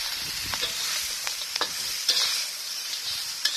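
Blue swimmer crabs tossed back into a wok with curry leaves, chili and garlic, giving a steady hissing sizzle with scattered scraping clicks from stirring, fairly close and without talk.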